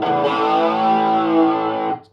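Overdriven electric guitar through an Electro-Harmonix Canyon delay and looper pedal set to a chorus-like, flanging modulation effect: one loud sustained distorted chord swirling for about two seconds, then cut off abruptly.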